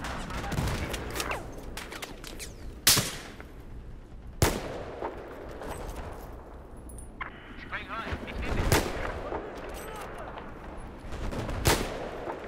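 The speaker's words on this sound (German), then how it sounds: "Da schießt du auf mich. Ich schieße auf dich." Repeated gunshots in the video game Battlefield 4 during a sniper-versus-sniper multiplayer match, sharp loud cracks spaced a few seconds apart over a busy background of game noise, with people talking throughout.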